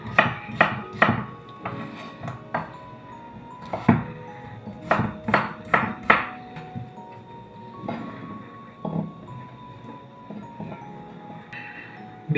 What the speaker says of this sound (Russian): И нарезаю тоже крупным кубиком.